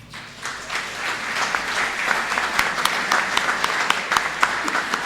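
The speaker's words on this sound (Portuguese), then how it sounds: "nesse momento também os nossos ouvintes merecem uma salva de palmas da plateia" An audience at a live televised mayoral debate in Sorocaba breaks into steady applause, many hands clapping loudly and evenly for several seconds.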